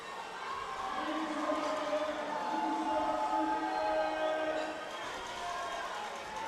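A crowd at a collegiate powerlifting national championship cheers on a lifter attempting an American record, a sustained rising roar of shouts and yells filling the hall, with a commentator talking over it.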